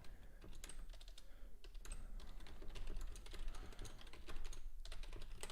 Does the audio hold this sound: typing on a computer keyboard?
yes